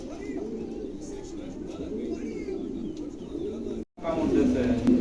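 A pair of Roman pigeons, an indigo female and a black male, at a pigeon sale give repeated low, throaty coos close by while someone talks over them.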